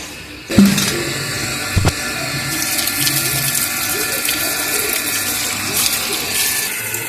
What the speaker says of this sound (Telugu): ఆల్రెడీ బిందె నిండిపోయింది, ఇంకో బిందె పెట్టాలి.